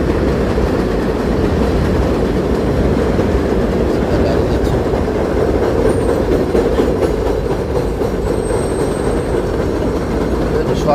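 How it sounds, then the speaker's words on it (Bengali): A train rolls past close by near Park Chester railway station in New York City, a steady loud rumble of wheels and rail clatter lasting throughout, with a faint squeal high up. "এই তো ট্রেন যেতেছে।"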